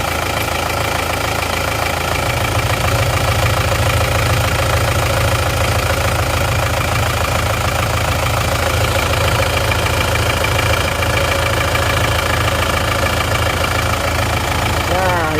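An Isuzu Panther Touring turbo diesel engine idles with a steady, loud, knocking clatter, close up, continuous throughout, with someone talking over it.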